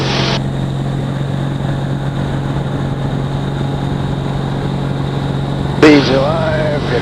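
Light aircraft engine at steady power through a takeoff roll, a constant loud drone with a strong low hum, continuous and close, with a brief burst of speech near the end.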